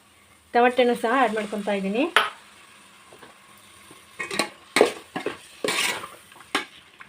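Tomatoes sizzle in hot oil in a pan while being stirred for a chicken dum biryani, with close scraping bursts from the spoon against the pan and a squeaky sliding stroke early on.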